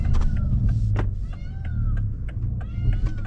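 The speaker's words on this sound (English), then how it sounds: "what the hell type of bird is that?" Repeated high chirps and warbling calls from an unidentified bird, heard from inside a moving MK5 Toyota Supra over a low road rumble, coming in short bursts about every half second.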